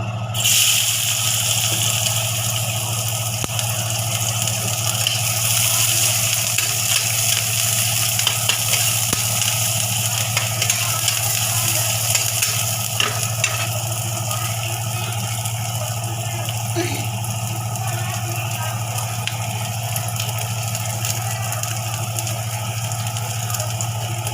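Chopped green chillies and onion sizzle steadily in hot oil for a Bengali fish curry, a continuous loud frying hiss over a low steady hum, with no break for the whole stretch.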